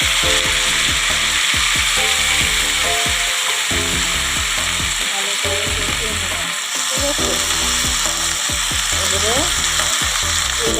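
Malabar spinach stems fry in a pan with loud, steady sizzling and crackle throughout, broken by scraping stirs and occasional utensil knocks.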